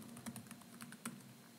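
Light computer keyboard typing, a handful of quiet, close clicks spaced unevenly across a short burst, with one sharper keystroke near the end and a faint steady hum underneath.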